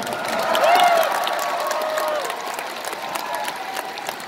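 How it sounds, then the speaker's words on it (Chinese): Concert audience clapping and mild cheering for a singer at a live show, a steady wash of applause with a brief swell near the start, then settling and holding at an even level. "掌声鼓励一下给歌王"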